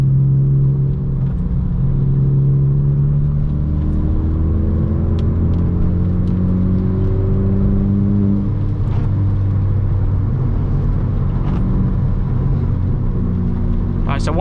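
An MK6 Ford Fiesta with a Hornet straight pipe exhaust and an Omex rev limiter drives at night, its engine droning in a loud, steady rumble with gently rising and falling tones as it cruises and changes gear.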